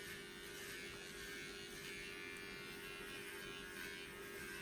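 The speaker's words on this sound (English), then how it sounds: "Now we got the quiet clippers now" Steady electric dog grooming clipper buzz running continuously at low volume, a thin mechanical hum with no voices over it.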